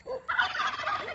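Turkeys gobble on a farm in a quick, rattling burst: a short call, a brief pause, then a louder, sustained gobbling that carries on close by with no talking.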